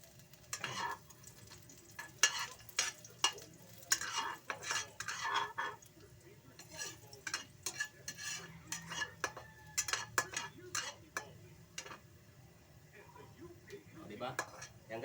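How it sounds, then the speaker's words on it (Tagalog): Vegetables sautéing in a pan for a coconut-milk vegetable dish, soft sizzle under frequent spoon scrapes and clinks against the pan, close but fairly quiet, with brief murmurs of a voice. "So ayan, magigisa na ako guys."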